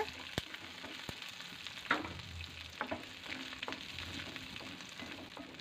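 Shallots and garlic sauté in hot oil for a fish curry, giving a quiet, steady sizzle punctuated by sharp spoon taps and scraping stirs against the pan.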